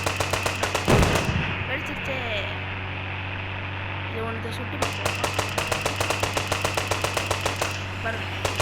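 Rapid gunfire from a gun fired in the Indian Bike Driving 3D game, a steady string of sharp evenly spaced shots with one heavier blast near the start and a brief pause midway.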